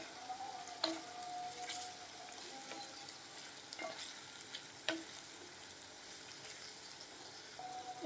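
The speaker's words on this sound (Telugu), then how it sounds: "ఇలా మసాలా యాడ్ చేసుకొని మిక్స్ చేసుకుందాం." Masala and chopped vegetables are stirred in a frying pan, giving a steady quiet sizzle with occasional scrapes and clinks of a spoon against the pan.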